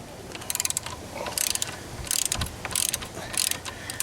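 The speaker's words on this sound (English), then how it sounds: "So we got our wrench in there" A ratchet wrench tightens a loose sliding seat bolt on a GM Chevy, giving several quick bursts of rapid clicking separated by short pauses, close and clear.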